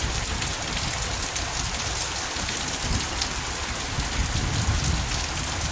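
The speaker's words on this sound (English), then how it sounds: "It's just white and rain coming down." Heavy rain pours down steadily in stormy, windy weather under a flood warning, a dense continuous hiss that stays loud and unbroken throughout, with no voices.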